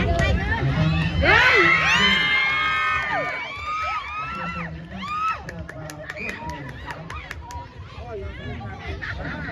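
A crowd cheers, shouts and whoops at a men's volleyball final during a local community sports event in Thailand, with rising excited yells and whistle-like cries over a continuous babble, and an announcer's voice over the crowd.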